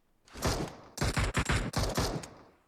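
Gunfire in the video game PUBG Mobile: rapid, loud bursts of shots in quick volleys, three clustered fusillades over a few seconds.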